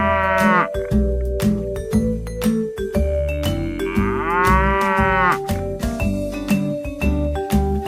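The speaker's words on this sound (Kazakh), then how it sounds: "Сиыр мөңірейді." A cow lets out repeated drawn-out moos over a steady, bright musical backing. The calls are loud and close, with bell-like tones mixed in.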